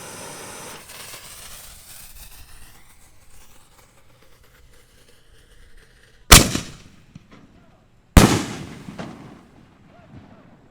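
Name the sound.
Excalibur 4-inch canister firework shells exploding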